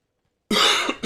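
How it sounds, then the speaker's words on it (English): After half a second of silence, a streamer gives a close, harsh cough followed by a short second cough. "You're gonna have to deal with me coughing and trying to clear my throat a lot"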